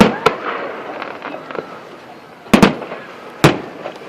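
Fireworks bursting outdoors at a fall festival display: a few sharp, loud bangs spread over several seconds, one close pair of cracks, with faint crackle and murmuring voices between them.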